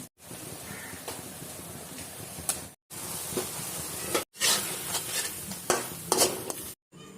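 Fish pieces go into a pan of fiddlehead fern curry, setting off a steady sizzle with stirring scrapes and occasional sharper spits, broken by a few abrupt silent gaps.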